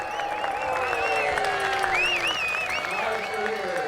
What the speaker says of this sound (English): Cheering also for all spectators here.